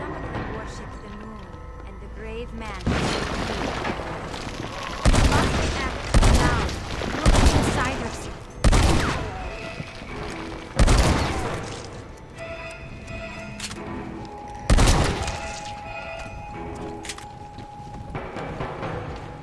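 Shotgun blasts ring out in the Red Dead Redemption Undead Nightmare video game: a series of sharp, booming shots spaced a few seconds apart, mixed with game noise while a person talks throughout.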